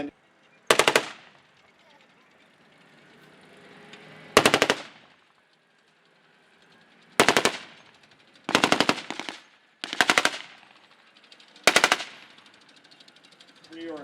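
A .50 caliber machine gun fires loud, sharp bursts at a Vietnam War reenactment, about six separate volleys of rapid shots spread out with pauses between them, echoing outdoors.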